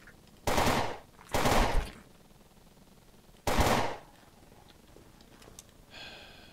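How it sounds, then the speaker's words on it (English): AK rifle in the video game Fort Zombie fires in three short loud bursts of rapid shots separated by brief pauses, with a fainter clatter at the end. "Also, AKs are loud as fuck. You use one, you will be heard."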